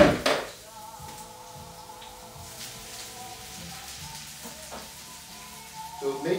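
Onion frying gently in a pan over moderate heat gives a soft, steady sizzle, quiet and continuous, with a few light clinks of a utensil stirring near the end.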